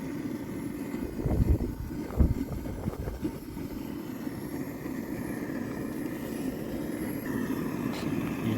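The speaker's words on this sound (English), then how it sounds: "it's quite windy up here." Wind gusting across an exposed hilltop buffets the microphone with a steady low rumble, swelling in a few louder gusts early on before settling into a constant roar.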